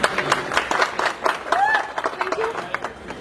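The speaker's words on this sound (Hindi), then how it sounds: "एक बार महागुरु जी राहुल यादव सर के लिए भी जोरदार तालियां" A crowd claps and applauds with scattered, uneven hand claps, with some voices and cheering mixed in.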